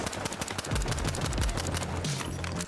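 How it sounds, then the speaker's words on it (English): Rapid automatic hip-fire bursts from the V9S gun in the video game The Finals, a dense rattle of close, loud shots with no talk over them. "you hit the hip fire shots on the V9S"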